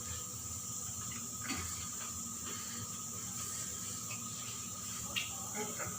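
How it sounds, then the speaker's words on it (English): Water boils in a pot on an Indian home kitchen stove while rajma chawal cooks, giving a steady bubbling hiss, with a pressure cooker hissing and faint voices nearby. "The water started boiling now"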